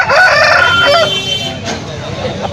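A fighting rooster crows loudly and close by at a poultry market in Melapalayam, Tirunelveli, its call stretched out over busy market chatter and a steady background hum.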